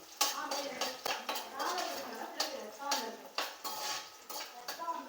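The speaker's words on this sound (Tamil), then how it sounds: "புதுசாக வாங்கின எண்ணெய் சட்டியில் இப்போ இறால் தாளித்து விட்ருவோம்" Shrimp tempered with small shallots in hot oil in a new iron pan, with close metallic scraping and clanking of a utensil against the pan in an irregular rhythm over a faint sizzle.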